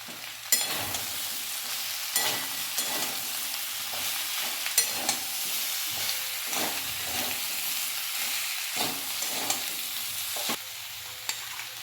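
Spices with turmeric and chili powder fry in a pan for a drumstick and potato curry, sizzling steadily while a spoon scrapes and stirs in a regular rhythm of roughly one stroke per second, close up with no talking.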